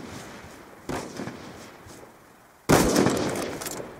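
Gunfire from the video game Black Ops 2: two sharp bursts, a lighter one near the start and a louder, denser one later that trails off, over a low steady background.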